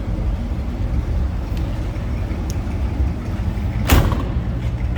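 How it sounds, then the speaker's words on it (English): The door of a 1957 Chevrolet Bel Air two-door hardtop shuts with a single solid thump about two-thirds of the way through, over the steady low rumble of the idling engine. "Nicely that door shuts."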